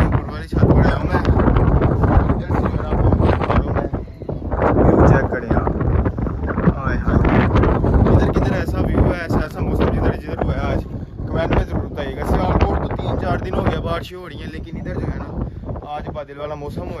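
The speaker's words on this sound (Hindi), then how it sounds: "और साथ जो है हवा चल रही है ठंडी" Wind gusts roar across the microphone continuously on a rooftop, with a voice talking underneath the blustery rumble.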